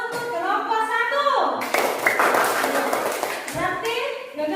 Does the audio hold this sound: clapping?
yes